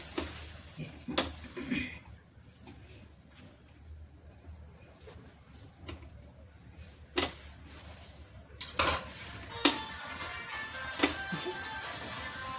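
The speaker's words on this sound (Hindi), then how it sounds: "मैं छोटा काटूंगी जिससे ये थोड़ा सा क्रिस्पी करारी बन जाएंगी" A knife cuts boiled potatoes into small pieces on a board, a run of sharp, close taps and clicks scattered irregularly over a quiet kitchen background.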